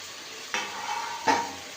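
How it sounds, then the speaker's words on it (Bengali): Marinated meat with spices sautés in a pan, giving a constant low sizzle broken by two sharp stirring scrapes of a utensil against the pan, close by with no talking. "মশলার মধ্যে সমস্ত মশলা দিয়ে মাংসটা দিয়ে এখন কষাবো, কষানো চলছে।"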